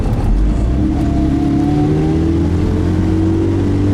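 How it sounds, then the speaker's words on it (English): A Honda CRX with a turbocharged stock B20 engine, heard from inside as the car pulls hard in third gear with a strained, grinding gearbox whine rising over loud engine drone. "third gear grind in CRX"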